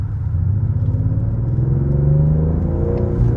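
A BMW M760Li V12 sedan accelerates from 40 to 80, heard from inside as a steady, smooth engine hum and rumble that rises in pitch without any voices.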